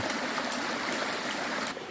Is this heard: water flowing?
yes